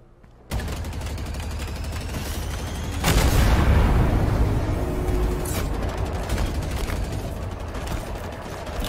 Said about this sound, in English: Now for the fireworks.